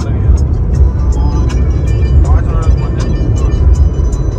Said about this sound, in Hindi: अभी भी हम स्टिल ट्रैफिक में ही है